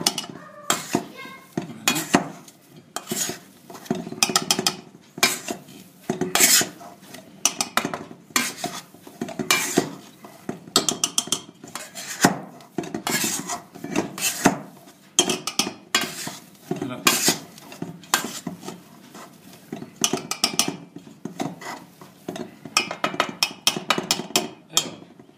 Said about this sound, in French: Donc là, je mélange